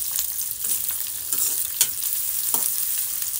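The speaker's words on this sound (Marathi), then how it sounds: "कांदा आणि गाजर. याला 1 मिनिट फ्राय करून घेऊ" Onion and carrot frying over full heat in a pan for chow mein noodles, a steady bright sizzle with scattered scraping stir strokes, close and continuous with no talk.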